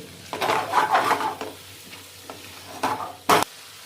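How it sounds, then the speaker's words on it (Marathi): Masala gets stirred into mutton chops frying in a pan, with a spoon scraping and clinking in uneven strokes over a steady low sizzle and a sharp knock near the end. "आता हे चांगलं मसाले त्याला लागतील असं प्रॉपर एकजीव करून घ्यायचं आहे"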